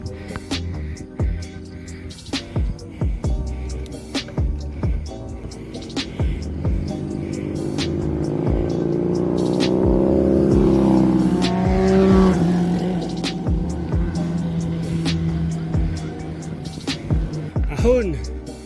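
A motorcycle engine climbing a banked uphill slope on an adventure ride at Daraitan, Tanay, Rizal, rising to a sustained droning whine mid-clip, with people talking over it.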